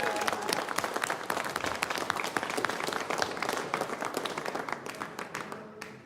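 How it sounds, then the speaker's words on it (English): A crowd applauds the staff of a PokerStars EPT live poker event in Malta, a thick continuous wash of clapping that holds steady and then thins out at the very end. "You can applaud the staff."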